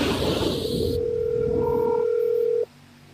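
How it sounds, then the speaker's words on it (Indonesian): A telephone call rings out: a steady held tone sounds for about two seconds after a burst of hiss, then cuts off abruptly into quiet line noise, with no talk. "Ini berdering, tunggu."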